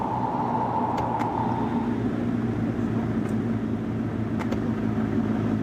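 A car driving in the video game I Am Bird, heard as a steady, low engine hum and road noise that holds constant, with a higher tone fading early on and a few faint clicks.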